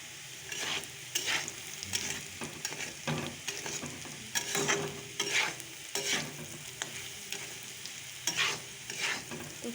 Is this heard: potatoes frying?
yes